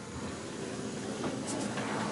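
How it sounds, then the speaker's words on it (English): Model trains run on a layout, giving a steady, dense whirring hiss that continues unbroken at an even level throughout. "and that gets the trains running."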